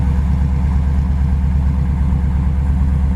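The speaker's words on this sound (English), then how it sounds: "Dual exhaust sounds really nice on it." A 1964 Chevrolet Impala Super Sport idles steadily through its dual exhaust, a close, loud, even low rumble with a regular pulsing beat and no voices over it.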